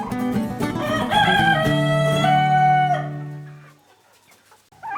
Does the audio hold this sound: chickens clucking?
yes